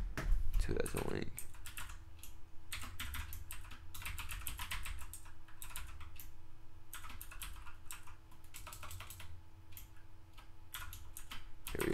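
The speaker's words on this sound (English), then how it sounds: "I typed it in wrong" Quick bursts of typing on a computer keyboard, with clustered key clicks separated by short pauses, close and fairly quiet over a low steady hum.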